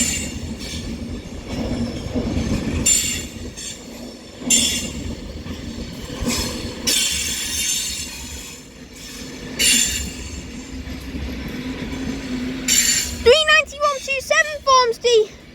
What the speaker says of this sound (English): is going to be an Avanti West Coast Class 390 Pendolino, which is forming the 1032 service